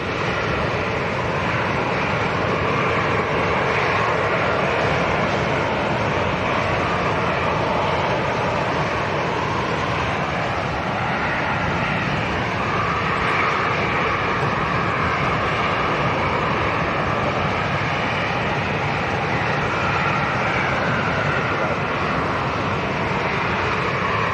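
A Discover Airlines airliner passes at Lanzarote Airport on a windy day, a steady broad engine roar mixed with wind rush that holds loud and constant throughout, with no voices.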